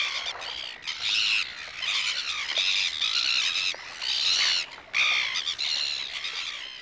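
Dense chorus of black-billed gulls calling at a nesting colony on a South Island riverbed in New Zealand, shrill overlapping squawks and cries running continuously and loudly with brief dips.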